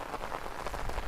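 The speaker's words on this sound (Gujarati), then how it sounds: "અત્યારે વરસાદ તો ભાઈ બહુ આવી ગયો, ભૂકા કાઢી નાખ્યા." Heavy rain falling on a village in farm country, a steady, dense hiss of drops close by with no break and no talk over the short stretch.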